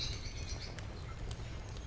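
Numerous exotic birds chirp and tweet faintly in a game's indoor aviary, Baldur's Gate 2, a few short calls and flutters sitting over a constant low ambient drone, without any voices.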